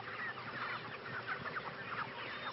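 Chickens raised on a farm cluck steadily and closely, many birds overlapping in a continuous busy chatter with no talk.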